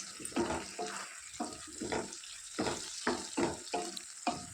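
Brinjal curry with turmeric stirred in a pan, a regular series of soft scraping, squelching strokes about once every half second, close and moderately quiet, with no speech.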